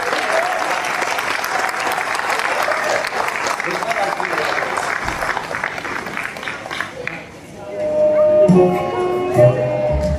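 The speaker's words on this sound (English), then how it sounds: "How about another round of applause?" Audience applause at a children's Easter church show: loud, steady clapping for about seven seconds that fades, then gives way to music tones.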